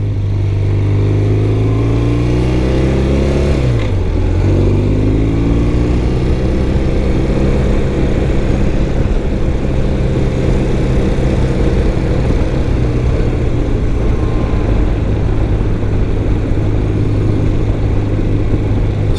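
A 1993 BMW R100GS motorcycle engine pulls hard in second gear from low revs, a steady close boxer-twin drone that dips briefly, then climbs and holds loud and continuous with wind rush and no talk.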